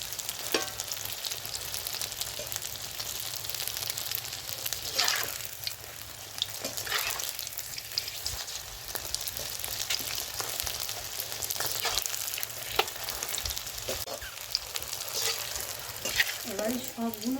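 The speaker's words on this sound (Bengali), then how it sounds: "এবারে সবগুলো আমি এইভাবে ভেজে নেব।" Fuchka frying in hot oil, a steady close sizzle with occasional bursts of bubbling and a few stirring sounds, continuous throughout without talk.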